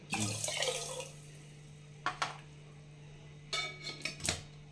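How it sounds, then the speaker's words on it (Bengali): Water poured into a bowl holding yogurt while making lassi, a short splashing pour at the start followed by a few light clinks of bowls and utensils, quiet and close in a kitchen. "যে বাটিতে আমি দই নিলাম সেই বাটিতেই আমি জল দেব।"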